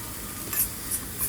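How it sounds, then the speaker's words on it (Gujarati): Cabbage sizzles as it sautés in a pan over a low to medium gas flame, stirred with a spoon, giving a steady close frying hiss broken by a few short scraping strokes. "ફરીથી તેને આ રીતે ચમચીથી ચલાવતા રહેવાનું છે અને સાંતળતા જવાનું છે"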